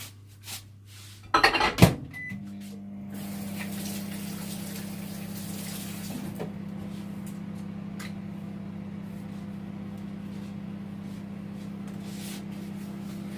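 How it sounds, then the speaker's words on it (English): Microwave oven running while heating, a low steady electric hum that starts after a brief clatter of the door and controls and continues unbroken, close by, no speech. "So I'm going to leave that in the microwave, let's say at 10-second bursts"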